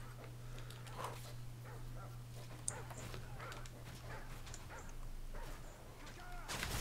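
Dog sounds in the Modern Warfare 3 Survival Mode match on the Seatown map: scattered yips and whimpering barks amid game noise and a steady low hum, ending in a loud burst.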